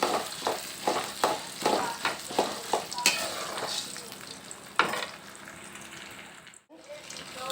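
Roughly 50 grams of urad dal frying until golden in a pan, with rhythmic stirring strokes over a loud sizzle, then a lighter steady fry ending in a short dip in sound.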